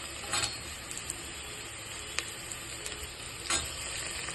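Tomato, carrot, beans and green peas sautéing in a pan for egg kurma, a soft continuous sizzle broken by a few scraping and clinking stirs of a spoon, quiet and close.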